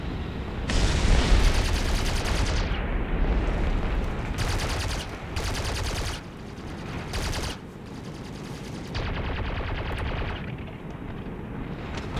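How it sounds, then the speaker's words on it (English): Sustained bursts of automatic gunfire and explosions from War Thunder aerial combat in arcade mode, loud and dense, rattling in rapid volleys with short gaps and booms throughout. "Whoa, someone's shooting me."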